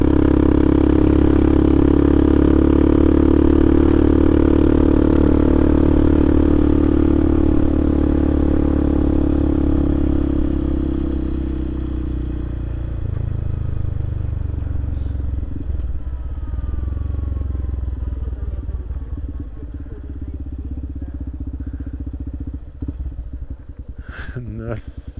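Motorcycle ridden on a mountain road near Pico do Itapeva between Pindamonhangaba and Campos do Jordão, its engine loud and steady at first, then easing off and dropping to a quieter idle-like putter as it pulls over, with occasional clatter.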